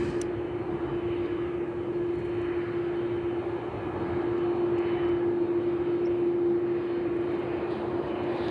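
Airliner passing straight overhead at Sydney Airport, a loud, sustained engine roar with a steady droning hum that holds evenly throughout and swells slightly toward the end, no voices.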